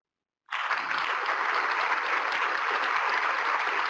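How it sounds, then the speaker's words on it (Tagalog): After half a second of silence, an audience breaks into loud, dense applause that stays steady and sustained to the end. "Kaya deserve po sa iyo ang aming palakpak."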